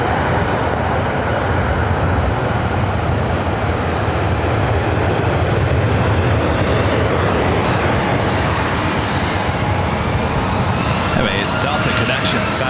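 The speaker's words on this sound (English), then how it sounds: "Delta connection, SkyWest CRJ 700ER." A Delta Connection SkyWest CRJ 700ER regional jet at LAX produces a steady, loud broadband engine roar that holds throughout, with a faint voice over it.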